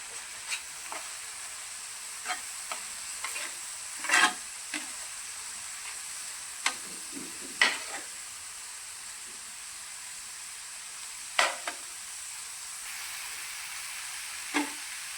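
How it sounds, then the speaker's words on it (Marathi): Cardamom powder being stirred into a thick, reduced milk and fresh coconut mixture for traditional Marathi coconut vadi, with a steady faint sizzle and scattered spoon scrapes against the pan. "याच्यामध्ये आपण घेतलेली विलायची पावडर टाकून घेऊया चांगली मिक्स करून घेऊया"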